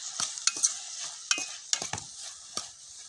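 Black eggplant with tamarind and coriander fries in a pan while being stirred: a steady sizzle runs beneath sharp, irregular scrapes and taps of the spoon against the pan, close up.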